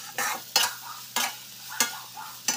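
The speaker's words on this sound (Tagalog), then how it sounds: "lulutuin natin yung mani dyan sa butter. Isa lang golden brown lang natin ng kunti" Peanuts frying in butter in a pan keep up a steady sizzle while a utensil stirs them in regular scraping strokes about every half second, loud and close, with no talking.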